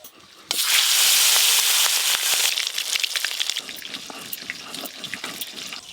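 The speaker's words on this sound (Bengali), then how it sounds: "এবার মাছের তেলটাও ভেজে নেব।" Katla fish fat drops into a hot oiled pan and erupts in a sudden loud sizzle, which settles into a busy crackle of spitting pops at close range, with no voices.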